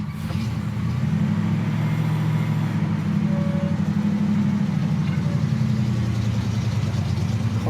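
1966 Pontiac GTO with a 4-speed, its engine idling steadily at close range, a low, even rumble with a fine rhythmic lope that holds without revving.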